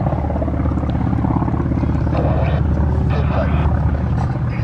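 WWII warbird propeller planes, a TBM Avenger, FM-2 Wildcat and F4U Corsair, diving at an air show over the beach make a loud, continuous throbbing engine roar, with indistinct voices and crowd noise mixed underneath.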